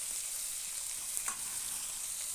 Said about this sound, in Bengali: মাছগুলো সব কটাই ভেজে নিচ্ছি